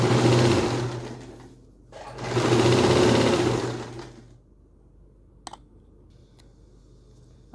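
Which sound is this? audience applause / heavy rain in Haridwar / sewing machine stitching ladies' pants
sewing machine stitching ladies' pants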